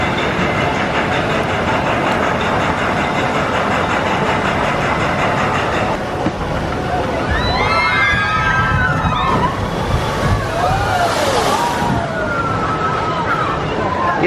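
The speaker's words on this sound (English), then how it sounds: "Yeah, that's a pretty decent splash." Water ride boat at a zoo plunging into a pool with a big rushing splash, loud churning water and spray over steady outdoor crowd and ride noise, with faint distant voices.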